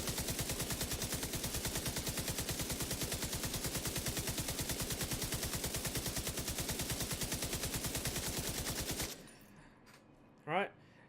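Sustained, rapid light machine gun fire in The Division 2 video game, a steady, even stream of shots lasting about nine seconds before cutting off, followed by a brief faint sound in the quiet.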